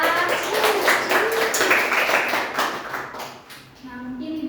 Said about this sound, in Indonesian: beri tepuk tangan untuk Dila.